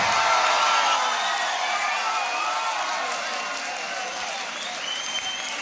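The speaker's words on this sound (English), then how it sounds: "Give it up for Codfish" Crowd at a 2018 Grand Beatbox Battle final applauds and cheers loudly for a beatboxer, with sustained dense clapping and scattered whoops that fade slightly but keep going throughout.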